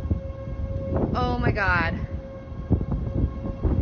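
A civil defense siren wails during a tornado in a residential neighborhood, its rising and falling tone clearly heard for about a second before fading, while a person exclaims in alarm over wind noise.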